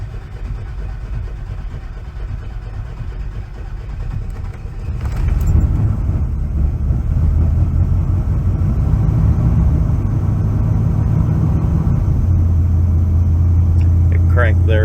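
A car engine fitted with Aces EFI fuel injection cranks and catches, then settles into a steady, loud, rumbling idle that continues without a break.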